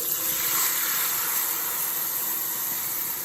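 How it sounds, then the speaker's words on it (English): Water poured into a hot pan of tempering with asafoetida, curry leaves and green chilies hisses and sizzles steadily, a dense, continuous bright crackle held at an even loudness throughout. "then I'm gonna add water."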